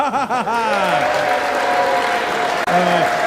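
Applause fills a chamber of Congress during the vote for Speaker, steady clapping from a large crowd that continues without a break, with voices and faint laughter mixed underneath.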